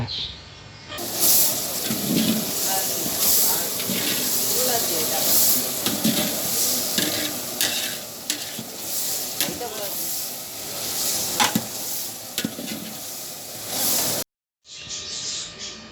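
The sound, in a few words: stirring homemade ginger garlic paste into frying biryani base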